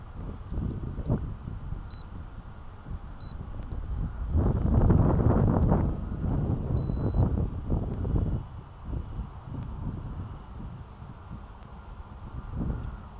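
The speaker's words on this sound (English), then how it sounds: "It's a bit breezy out there." Gusty wind buffets the microphone outdoors during an FPV model airplane flight, with uneven rumbling bursts that swell in the middle, along with a few faint electronic beeps.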